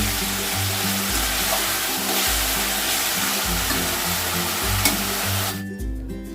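Turmeric with cumin and coriander powder being stir-fried in a hot pan, a steady close sizzle with repeated scraping stirs throughout, cutting off near the end.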